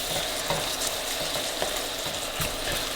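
Balsamic vinegar and Worcestershire sauce being stirred in a hot frying pan, giving a steady close sizzle with occasional scraping stir strokes throughout.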